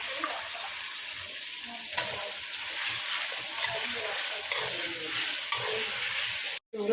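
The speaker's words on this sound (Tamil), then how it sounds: "வெங்காயம் வதங்கிச்சு. தக்காளி போட்டுக்கலாம். கத்திரிக்காய் போட்டுக்கலாம்." Onion, tomato and eggplant sauté in a pan with a steady sizzle and scattered stirring clinks, heard close up under a continuous watery hiss.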